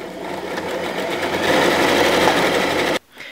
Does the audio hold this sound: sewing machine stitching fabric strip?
yes